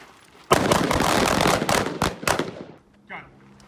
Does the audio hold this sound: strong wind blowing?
no